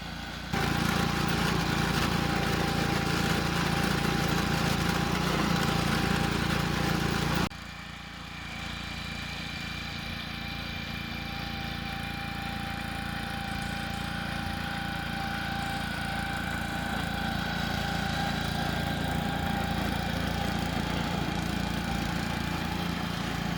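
A rented core aerator's small engine runs steadily on a backyard lawn, loud and close at first, then dropping to a slightly quieter, even drone for the rest of the time, with no talking.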